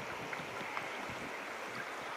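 The middle fork of the Gila River in New Mexico's wilderness flows past as a soft, steady, continuous wash of running water, quiet and unbroken for a couple of seconds.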